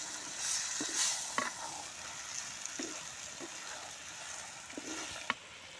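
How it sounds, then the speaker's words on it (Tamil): Pieces of duck fry in oil with a continuous hiss and crackle, broken by occasional scraping knocks of a spoon stirring the pan, recorded outdoors in a grove. "கறி நல்லா எண்ணெயிலேயே வேகணும்"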